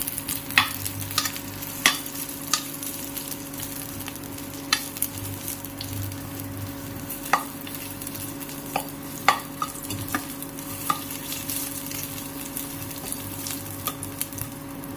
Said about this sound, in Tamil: இந்த இஞ்சி, புளி, மிளகு, சீரகம், காஞ்ச மிளகாய் இதெல்லாம் கொஞ்சம் வதங்கட்டும்.